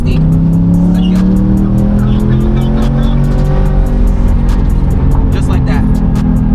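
A C8 Corvette with rolling antilag pulls at full throttle in 4th gear from about 60 mph, a loud, rising engine roar with rapid repeated antilag pops and crackles throughout.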